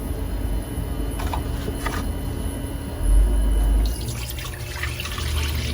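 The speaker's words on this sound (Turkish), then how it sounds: "Sütlerimizi dökelim." Milk being poured into a pot for homemade cheese, a continuous liquid pour with faint splashing and a brief low thump partway, close against a steady background hum.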